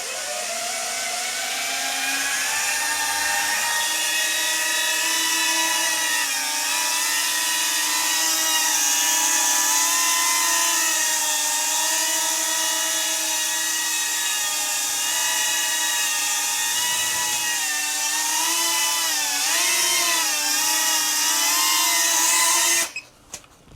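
A home-built FPV drone flies with a steady, high-pitched whine from its propellers and motors, rising and dipping slightly in pitch, loud and close throughout before cutting off abruptly at the end.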